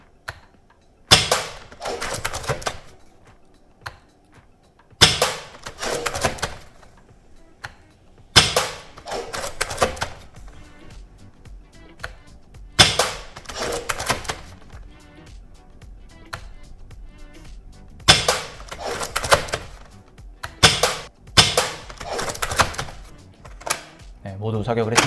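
An upgraded Academy AWM airsoft sniper rifle fired repeatedly at an outdoor range: sharp snappy shots with spaced pauses between them, each followed by faint mechanical handling clicks, with a voice talking quietly between shots.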